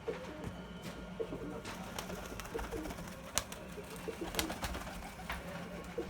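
Tumbler pigeons coo in a loft, soft repeated throaty calls layered over a steady low hum, with a few sharper knocks and rustles nearby.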